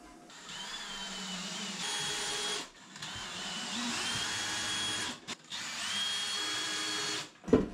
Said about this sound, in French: je vais faire un trou un peu plus gros dans le bois pour enfoncer la vis un peu plus profond